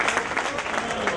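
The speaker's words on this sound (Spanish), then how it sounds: "esos aplausos, que estáis muy flojos" A short burst of audience applause at a bass fishing tournament prize ceremony, steady and moderately loud throughout.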